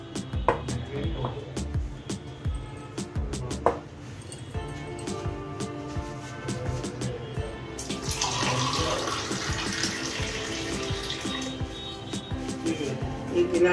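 Water is poured into a bowl of flour batter for homemade pakoras, a trickling, splashing stream with irregular clinks and taps early on, then a denser, louder pour in the latter half.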